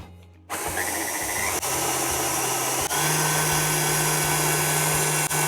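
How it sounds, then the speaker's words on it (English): An electric stand mixer beating two eggs at medium speed switches on abruptly, then whirs loud and close with a steady motor whine and slight speed shifts. "So the 2 eggs into the mixer. I'm just going to put that on a medium speed."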